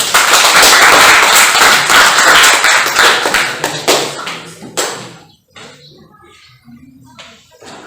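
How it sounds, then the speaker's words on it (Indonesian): Students in a chemistry classroom clap for a presenting group: a loud burst of dense applause that thins out after about four seconds, leaving a few scattered, isolated claps and near silence. "kita beri tepuk tangan untuk kelompok 3"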